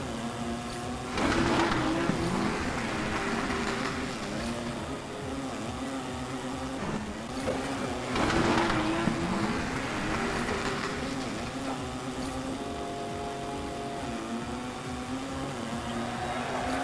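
Engine drone of a go-kart racing through the final lap in NBA 2K25, with a continuous buzzing whine that rises and falls across the lap, under occasional talk.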